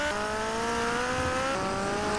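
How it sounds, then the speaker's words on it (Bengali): Motorbike ridden in GTA Vice City, a steady game engine drone with rising harmonic pitch that sweeps upward over a couple of seconds, filling the clip with no talk. "বাইক চালানোর মজা আসছে"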